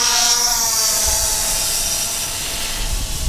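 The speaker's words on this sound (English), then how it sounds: "Let's see how fast it will it'll climb now. Full throttle up now." A DJI Phantom 4 quadcopter drone climbs at full throttle, its rotors giving a steady, loud whining buzz with a high tonal edge that holds throughout, with no talk.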